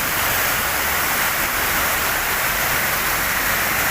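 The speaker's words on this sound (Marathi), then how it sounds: "बराच असा मोठाचा पाऊस येतो" Steady, heavy Kerala downpour roars as a continuous loud wash of rainfall, close and unbroken for the whole stretch, with no talking.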